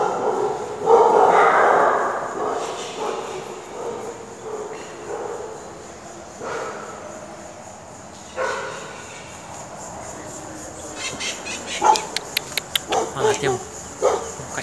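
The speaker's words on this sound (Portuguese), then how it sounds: "Cachorrinho." A small dog barks at a farm chapel of Nossa Senhora da Saúde in Botucatu, Brazil. Near the end come several sharp, close yaps in a quick burst, after earlier talk and background noise.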